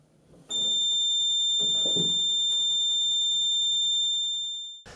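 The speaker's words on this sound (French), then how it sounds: "et donc le buzzer pourra continuer de sonner" An electronic buzzer in a thyristor latching circuit sounds one steady, loud, continuous high tone that holds for over four seconds, alone apart from faint handling noise at the start.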